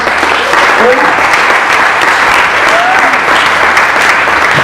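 A church congregation claps together during a worship service, a dense, steady roar of hands that holds loud and even for several seconds, with faint voices mixed in.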